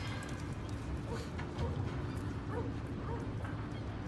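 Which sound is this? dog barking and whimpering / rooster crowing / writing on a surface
dog barking and whimpering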